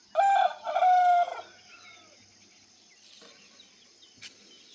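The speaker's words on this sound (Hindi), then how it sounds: "मुर्गे दे बांग हुए" A rooster crows twice in a Pakistani farm village in the morning, loud and close, its calls followed by a quiet background with faint insect chirping and a brief click near the end.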